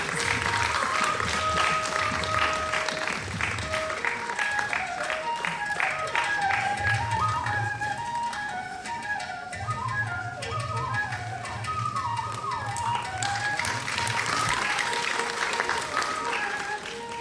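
An audience at a silver jubilee celebration applauds with sustained clapping and a few whistles, steady crowd noise filling the hall, mixed with music and some voices throughout.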